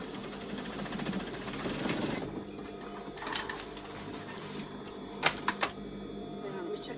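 A domestic overlocker runs a seam on a pair of pyjama-bottom trousers being made into men's lounge pants, a steady whirring drone for the first few seconds, then a few short mechanical clicks and stops as the fabric is handled.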